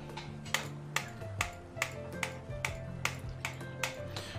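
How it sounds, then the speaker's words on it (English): A repeated failed item placement sound from the video game Path of Exile, sharp clicky ticks recurring about every half second over a low droning game soundtrack. "So that is the sound of me trying to put this in the unique tab"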